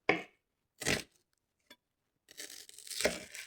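A knife slices through a red onion in three or four separate crisp bursts with quiet gaps between them, the last stretch longer and rougher. No one speaks.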